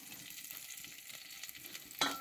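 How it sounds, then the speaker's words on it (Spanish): Oil with onion sizzles and bubbles in a pan for shrimp broth, giving a steady, close crackling fry. A louder stir or scrape bursts in near the end, and no one speaks. "tiene que hervir prácticamente el aceitito con la cebolla, tiene que estar hirviendo así un poquito"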